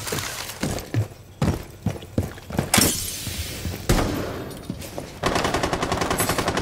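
Gunfire in Rainbow Six Siege: sharp single shots ring out, then dense automatic bursts, with a long rattling burst near the end. No voice is heard.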